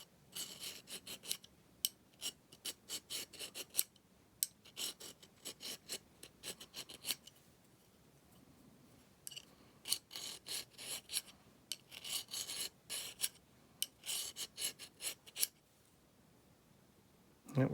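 Hand file dressing down a rifle scope base dovetail on a Glenfield 30, quiet repeated rasping strokes in steady back-and-forth bursts with short pauses between runs, close and alone.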